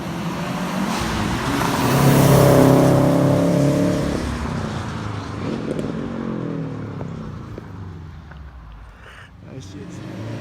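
A Subaru WRX with a double-clutch gearbox drives along a quiet side road, its engine swelling into a loud rev and then easing off, with people talking over it.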